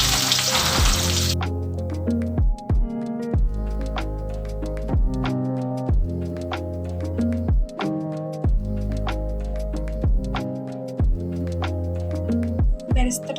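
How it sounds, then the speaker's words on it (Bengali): Onions fry in oil and ghee for beresta with a steady close sizzle, broken by regular sharp knocks and clatters of a spatula against the pan. "এখানে আমি প্রায় 4টে মতন পেঁয়াজ নিয়ে নিয়েছি বেরেস্তা করার জন্য।"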